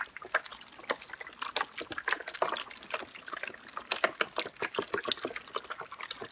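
Beef broth trickles and splashes as it is poured over seasoned meat with tomatoes and onions in a slow cooker, a soft continuous liquid pour heard close up and alone.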